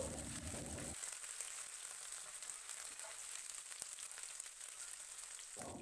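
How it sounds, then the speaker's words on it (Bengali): Chicken pieces frying in hot oil in a kadai for dry chilli chicken, a faint, even sizzle that continues steadily, with a louder burst of frying at the start and end. "দেখুন দ্বিতীয়বারে সেই একই পদ্ধতিতে সেই ভাজা পর্ব চলছে"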